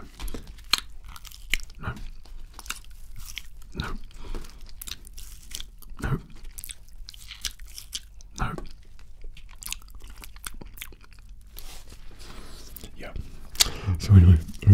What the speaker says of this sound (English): something that I like with the ASMR eating videos is a little bit of crunch in there